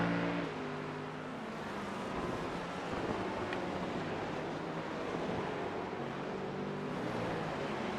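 A Porsche race car driving on a track, heard as a steady, moderately loud engine roar mixed with broad wind-like noise that holds evenly throughout.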